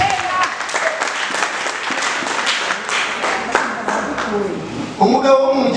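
A church congregation applauds at an evangelistic worship gathering, dense continuous clapping held at a steady level, with a voice rising over it near the end.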